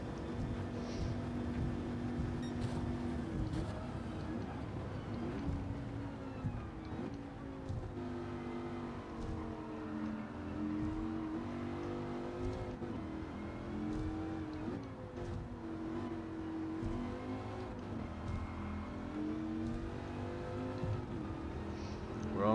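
The engine of a 2006 Dodge Viper SRT-10 coupe races in Gran Turismo 7 on the Tokyo Expressway, droning steadily with rising and falling revs and gear changes across the whole stretch, at a moderate level with no talk.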